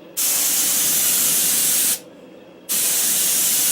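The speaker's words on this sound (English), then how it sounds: "You don't want to get too close when you're doing this because this paint is thin and it will run." Close, loud hiss of Cerakote spray-painted onto a tripod in two long bursts, broken by a short pause, with no talking.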